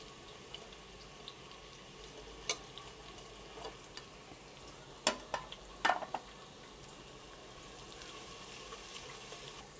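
Whole garam masala with slit green cardamom pods spits quietly in hot oil for biryani, a faint steady sizzle broken by a few sharp crackles and clinks near the middle.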